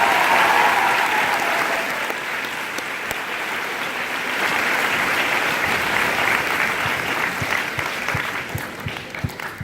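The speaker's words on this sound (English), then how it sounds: "let us give Mr. Monty File a grateful round of applause for his service at Thomas Corporation" Steady, dense applause from a large graduation audience in a gym honors a retiring staff member of Thomas Corporation, sustained evenly for several seconds with a few louder individual claps standing out near the end.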